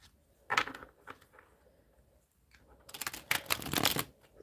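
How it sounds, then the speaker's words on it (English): Tarot cards are shuffled by hand near the microphone, a few scattered riffles at first, then a denser, louder burst of rapid flicking toward the end. "A few shuffles."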